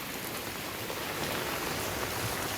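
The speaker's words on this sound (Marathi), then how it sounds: "जोरदार पाऊस पडतो आहे" Heavy morning rain pours down steadily as a dense, continuous hiss of drops hitting surfaces, loud and unbroken throughout with no voices.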